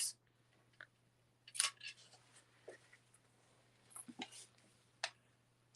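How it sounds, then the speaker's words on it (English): Quiet snips of scissors trimming the tails of a ribbon bow, several short crisp cuts spaced irregularly over a faint low hum, close and soft. "So I'm just going to trim away the tails."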